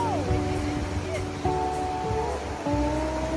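Waves washing onto the shore of Whitefish Bay, Michigan, a steady surf wash with wind, while people talk over it throughout.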